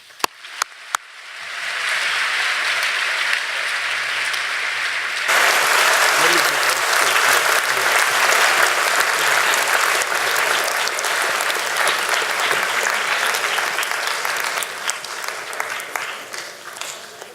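A large audience of young people applauds steadily in a hall to welcome Holocaust survivor Eva Schloss, a few isolated claps first, then sustained clapping that swells around six seconds and holds before tapering near the end.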